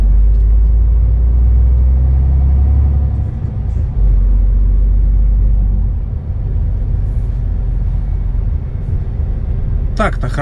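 Heavy MAN truck in a driving game, a steady low engine rumble running loud and continuous throughout with only slight dips, and voices talking over it.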